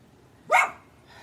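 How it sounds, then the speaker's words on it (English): A dog lets out a single loud, sharp bark, close by, with near silence before and after. "that's my dog."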